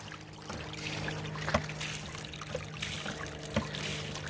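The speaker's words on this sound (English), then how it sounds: "There's a small little babbling brook." A small babbling brook trickles in the Hidden Valley Wildlife Preserve, a continuous gentle water babble with occasional soft splashes, close and steady, with no voices.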